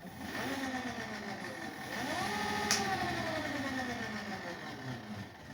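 An electric scooter motor driven by a universal controller whines as it spins up, its pitch rising and dipping in two ramps, moderately quiet with a sharp click partway through.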